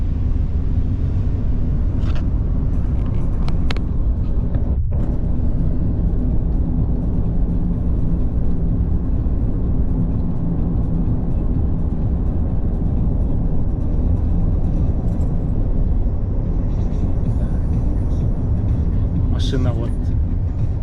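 A car heading to a gas station in Japan makes a steady, loud interior road and engine rumble throughout, with someone talking over it.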